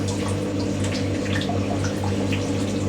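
Water gurgling and rushing steadily from a Hotpoint WD64 Aquarius Extra washer dryer pumping out, a continuous close drone with no talk over it.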